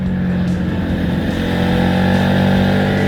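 An FKM Victorino 250i motorcycle engine hums steadily at close range while cornering, holding a constant drone with a slight rise in intensity, no talking.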